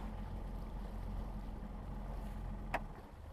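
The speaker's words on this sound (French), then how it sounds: "Je mets un bon coup de moteur." A sailboat's auxiliary engine drones low and steady as the boat is single-handedly maneuvered away from its mooring. The faint, continuous hum is broken once by a brief sharp click near the end.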